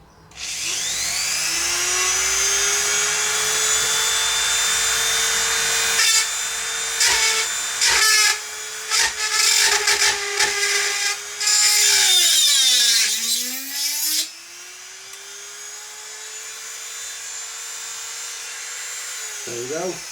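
A power drill bores out a rivet on a Quad 33 preamp, the motor whining steadily near and loud, then grinding and chattering as the bit bites through the metal, slowing briefly under load before spinning freely again; a voice speaks briefly.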